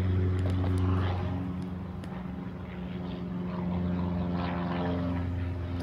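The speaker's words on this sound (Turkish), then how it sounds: "Şimdi de uçak uçuyor." A propeller airplane drones somewhere overhead, a steady low hum that swells and fades slightly, with faint outdoor background noise.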